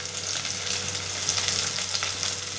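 Onions frying in a pan for urundai kulambu, a dense, steady sizzle and crackle with bubbling spits, close and continuous throughout with no talking.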